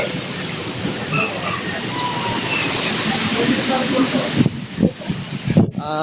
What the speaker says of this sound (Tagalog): Medyo mahina na ang yung ulan. Yung hangin, malakas pa rin.